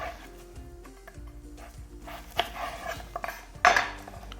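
A knife slices a chayote into pieces for a Réunion-style curry, giving a few sharp, close knocks of the blade on the board, with the loudest chop near the end and little else around it.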